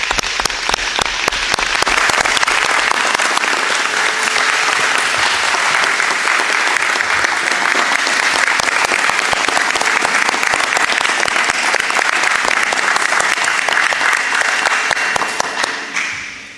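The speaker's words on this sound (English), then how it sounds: "So I think we should give them another round of applause" Sustained, loud round of applause from an audience at a town council meeting, dense clapping holding steady for about fifteen seconds before tapering off at the end, with no talk over it.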